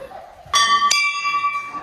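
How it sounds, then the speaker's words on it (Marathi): Two bright metallic temple bell strikes in quick succession, the second ringing on with a long shimmering decay over quiet background murmur. "चला घंटा वाजून भाई पुढे जायचा कधी पण"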